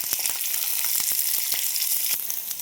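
Olive oil heats in a pan for Manthi-spiced noodles, giving a continuous, close, hissing sizzle with faint crackles and light scraping throughout.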